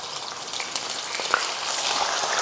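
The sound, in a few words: milkfish (bandeng) frying in oil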